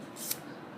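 Cold Steel GI Tanto fixed-blade knife slicing through cord, a single quick, close swishing cut lasting a fraction of a second against quiet background.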